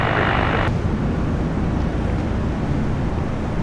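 An airliner landing on runway 19 left at Brisbane International Airport, a loud broad roar of engine and wind noise that is filling and close, with a brighter hiss dropping away early on.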